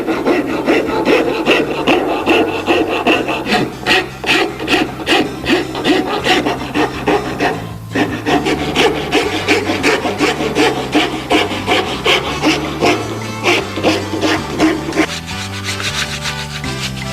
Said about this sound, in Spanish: Una vez que hemos desbastado bien con la escofina